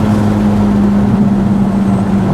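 Steady, loud low engine drone from a 2024 Corvette Z06 fitted with a custom-built titanium exhaust, held at roughly half throttle with a constant strong hum and no breaks, no voices.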